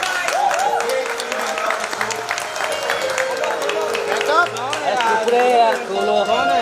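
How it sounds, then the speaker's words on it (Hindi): Audience applause at a comedy show, steady and dense crowd clapping mixed with cheering and musical accents, with a host voice talking over it throughout. "जोरदार तालियां for the entire परिवार"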